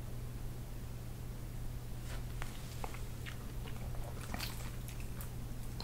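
Spicy BHC Mapster fried chicken being bitten and chewed close up, a few crisp crunching bites over steady background hiss, with no talking.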